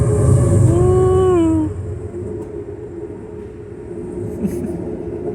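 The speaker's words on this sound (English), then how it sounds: "Our first train passed by." An Amtrak train passing a road crossing in South Carolina gives a loud, steady low rumble, while a sliding tonal horn-like whine fades out after a second and a half, leaving softer rolling noise.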